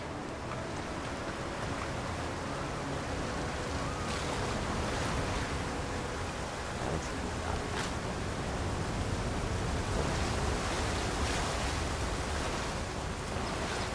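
A waterfall rushes in the video game Avowed, a dense, steady wash of roaring water that fills the whole stretch without pause, with no voices.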